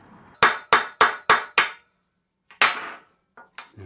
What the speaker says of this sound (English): That's riveted over.